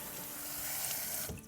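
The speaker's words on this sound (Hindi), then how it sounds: "अब इसको हम ठंडे ठंडे पानी से शावर देते हैं।" Cold tap water runs onto boiled snack dough pieces for a Kurkure recipe, making a steady close gush that splashes evenly and then cuts off near the end.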